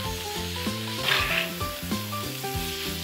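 Prawn curry with fresh coriander being stirred in a pan, a steady close sizzle with soft rubbing scrapes of the spoon, alone.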